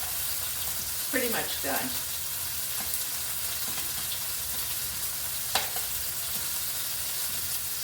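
Fish fries in a pan alongside fried rice, a steady close sizzle and crackle with a few scraping turns of a utensil, while a person talks briefly over it.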